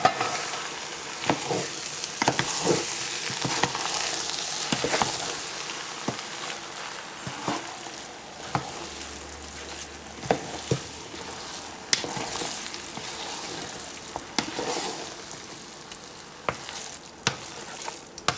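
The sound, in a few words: mixing chicken biryani together in a pot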